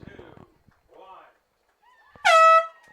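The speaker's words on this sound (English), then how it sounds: "listen to Jim Gloyd do the honors here of blowing the air horn" Faint voices counting down give way to one loud, sustained air horn blast at the end of a girls' soccer game, lasting under half a second, ringing with strong harmonics.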